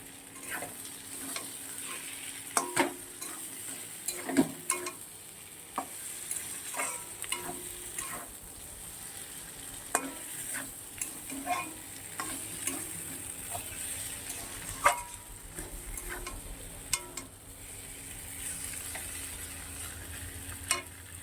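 Banana flower (mocha) curry with sugar being stirred in a pan, soft sizzling beneath repeated sharp ladle scrapes and taps spaced irregularly throughout.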